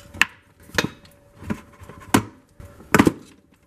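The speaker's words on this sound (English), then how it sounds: "I'm just going to break off more plastic so I have a lot of clearance" Plastic being snapped and broken off a Craftsman leaf blower housing by hand: six sharp, close cracks and knocks spaced roughly half a second apart, alone without talk.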